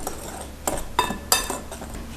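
A utensil stirs dry flour, sugar, baking powder and salt in a bowl, giving a few faint, sparse clinks and scrapes against the bowl, quiet and close, no talking.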